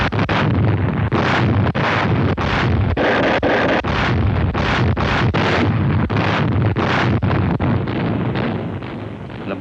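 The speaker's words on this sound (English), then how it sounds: "The more those big guns pounded the beaches" Heavy naval guns bombard enemy-held Pacific beaches ahead of a wartime amphibious landing: a steady run of loud, booming blasts roughly every half second, rumbling together over windy, buffeting noise with no pause.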